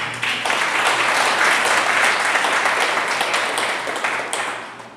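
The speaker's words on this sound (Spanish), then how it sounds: "Denle un aplauso a Jesús por eso." A Spanish-speaking church congregation gives Jesus a round of applause, a full, steady roar of clapping that swells quickly, holds strong, then tapers off near the end.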